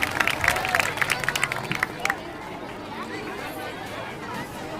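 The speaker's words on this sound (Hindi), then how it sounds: "जोरदार ताली बजाइए इनके लिए।" Applause and clapping break out from an outdoor crowd honoring the first-place kabaddi winners at a village sports event, a dense burst of claps with chatter for about two seconds before fading into a murmuring crowd.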